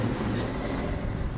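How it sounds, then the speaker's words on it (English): A 1966 Chevrolet Chevelle SS396 with its big-block V8 idling: a steady, deep, rumbling drone held at an even level, close and loud, with no voices. "She sounds nice and tough. It's not overly loud, but you can tell she's a muscle car."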